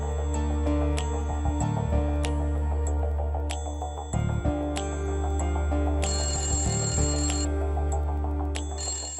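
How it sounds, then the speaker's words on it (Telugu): A telephone rings with a repeating electronic tone, loud and close, over a musical background in a Telugu television drama scene, with no talking. "ఏంటి స్వర్ణ ఫోన్ చేసావు?"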